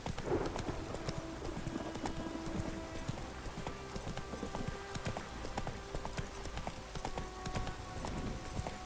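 Horse hooves clip-clopping steadily in The Witcher 3 on a rainy night, a continuous rhythmic trot or gallop over rain and ambient game sound, with an occasional faint whinny.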